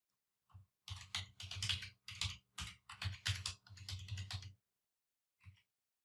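Typing on a computer keyboard at a desk, a quick run of close, crisp key clicks in uneven bursts, then a pause and one last short tap, with no talking.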